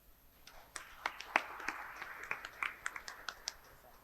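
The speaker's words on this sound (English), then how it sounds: "Please keep the applause going" Audience applause at a conference workshop, heard fairly faint with scattered distinct claps tapping through a soft wash of clapping hands that lasts the whole stretch.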